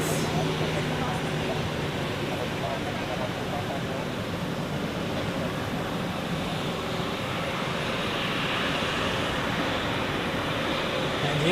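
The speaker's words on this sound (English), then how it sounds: "And here we have Condor taxiing out as a Helvetic Embraer is showing up behind Dock A." A Condor airliner taxies at Zurich Airport, its engines producing a loud, continuous broadband roar that holds steady throughout.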